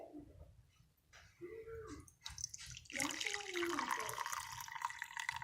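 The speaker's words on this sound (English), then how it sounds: "I'm pouring carefully." Dissolved salt solution is poured carefully into a container for growing crystals, giving a steady liquid splash and trickle that builds in the second half, with brief talk at the start.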